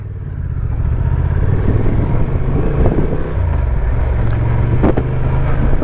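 A Honda Transalp 750 motorcycle ridden in gravel mode, just shifted into third with the quickshifter, gives a steady, loud engine drone with heavy wind buffeting and a brief dip partway through, and nobody talks.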